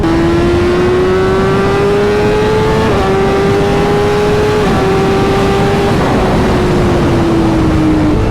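High-revving sport motorcycle, one of a BMW S 1000 RR, Triumph Speed Triple RR or Ducati Pikes Peak, accelerating hard on an open road with a loud, steady engine whine that climbs through several gear shifts, close and with no talk.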